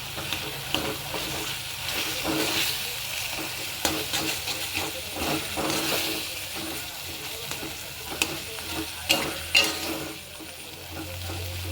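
Boiled potatoes coated in salt and turmeric are stirred in a pan over a low flame, making a continuous soft sizzle broken by repeated close scraping and clattering strokes of a spoon.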